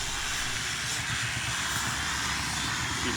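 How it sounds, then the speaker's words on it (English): Promark VR drone with its motors running in flight, a steady continuous whine and buzz held at even loudness throughout, close to the listener, with no talking. "I'm going to take it up and do a simulated motor failure just to show you"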